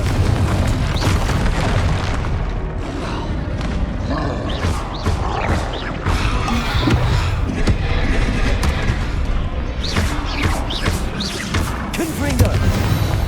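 Repeated fiery spell blasts and booming bursts from Confringo casting in the video game Hogwarts Legacy, loud and dense over a busy combat soundscape with growls and clatter throughout.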